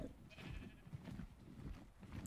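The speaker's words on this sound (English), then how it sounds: "Found a sheep." A sheep bleats in the ARK survival video game: repeated wavering bleats, fairly close and moderately loud, with no talking over them.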